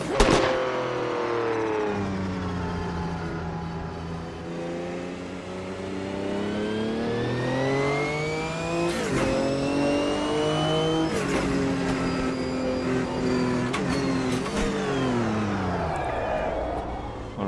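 A GTO race car in the video game Automobilista 2 revs hard through repeated gear changes, its engine note rising in long sweeps and dropping sharply at each shift, loud and continuous.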